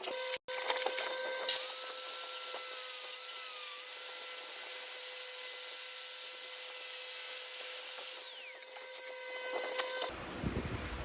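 A power tool whines steadily for about seven seconds while shaving down an aftermarket thermostat to fit a budget radiator setup on a K-swapped Integra, then winds down and stops, followed by brief handling noise.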